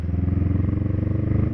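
A Honda Rebel 500 motorcycle ridden at night in Tarlac City, its engine a loud, close, continuous throbbing drone throughout.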